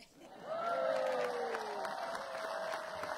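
British tennis crowd applauding at an outdoor grass-court exhibition event, a steady wash of clapping with a few cheers and a voice rising over it, heard from some distance.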